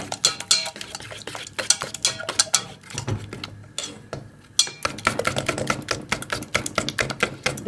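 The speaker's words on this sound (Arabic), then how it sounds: "اهو حطه على النار مع التقليب اهو باستمرار" Eggs stirred continuously in a pan over the stove, a steady run of quick scraping and clinking strokes from a utensil against the pan, close and fairly loud, with a brief quieter pause midway.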